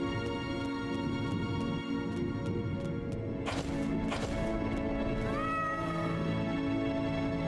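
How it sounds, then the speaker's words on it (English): A cat meows a few times, a pair of rising cries in the second half over a steady hum of background music and room noise, with no talk. "You guys see a cat?"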